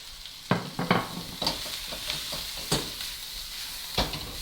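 Pepper, carrot, onion and snow peas in their pods sizzle quietly in a pan while a utensil stirs them, giving several sharp scraping clicks over a steady soft frying hiss, with no talking.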